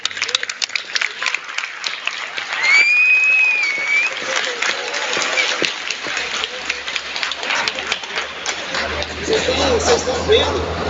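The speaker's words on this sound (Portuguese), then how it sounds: "Mas vamos dar uma salva de palmas para essa galera." Audience applause at a hockey team's presentation event, loud sustained clapping mixed with crowd chatter and shouts, a whistle-like tone rising briefly in the middle, continuing throughout.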